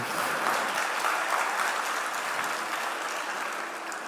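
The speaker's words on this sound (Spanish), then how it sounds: "Un aplauso para ella, ¿verdad?" A congregation applauds in a church talk: steady, dense clapping blurred into an even wash, held at a constant level for several seconds and easing slightly at the end, with no voices over it.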